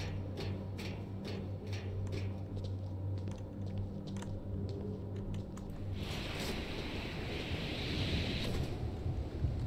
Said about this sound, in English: It just sounded really windy outside.